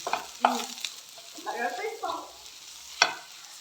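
Ground peanuts are stirred into a banana mixture in a pan over low gas, with scraping, sticky stirring strokes and a few sharp clinks of the utensil against the pan, close and fairly loud.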